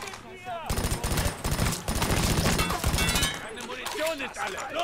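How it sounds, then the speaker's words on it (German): Rapid automatic gunfire in Mafia 3, bursts of machine-gun shots hammering in quick succession for a few seconds, loud and close, with glassy breaking clatter and quieter game sounds before and after. "Der ballert nur auf mich."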